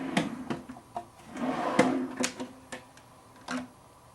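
A living room cabinet drawer on a self-closing slide is pushed back and glides shut by itself, giving a run of soft wooden clunks and slide rattles with a firmer thump near the middle, close and fairly quiet.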